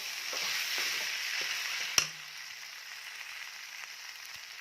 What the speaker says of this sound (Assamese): এতিয়া আপোনালোকে এনেকৈ 3-4 মিনিটমান ভাজিব